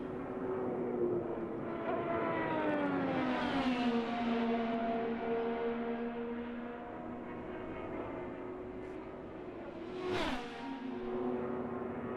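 An IndyCar race car runs on track at Phoenix Raceway, its engine a steady loud whine that rises and falls in pitch as it passes, with a sharp close pass near the end.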